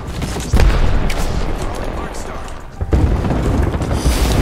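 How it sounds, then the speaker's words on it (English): Airstrike explosions in Apex Legends, a run of heavy booming blasts and rumbling impacts that keep rolling on, with a loud burst near the start and another midway, while players talk over the din. "Oh no, there is an airstrike."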